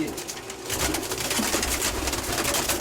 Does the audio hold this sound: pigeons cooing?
yes